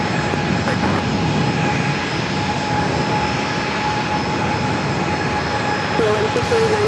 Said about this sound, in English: the flight heading to Baltimore, Maryland, Southwest Airlines flight 574, 737-800